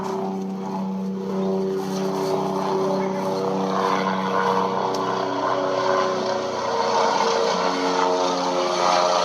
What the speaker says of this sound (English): there is a sheriff helicopter flying directly above me